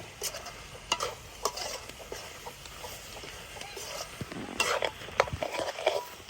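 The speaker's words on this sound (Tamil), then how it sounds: "நான் பச்சை இஞ்சி உள்ளியையும் போடுவேன் போட்டுட்டு நல்லா கிண்டு மறந்துங்க" Ginger garlic paste stirred and frying in a pan, with a soft steady sizzle and repeated scraping strokes of a spoon against the pan, fairly quiet and close, no talking.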